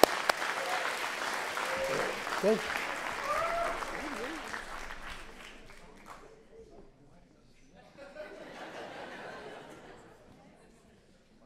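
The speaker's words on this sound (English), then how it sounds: "so let's give her a round of applause" An audience at the Northeastern University School of Law celebration of Stephen Subrin applauds a woman, lively clapping with some chatter and light laughter that fades, then a smaller second swell of applause, with a brief spoken word over it.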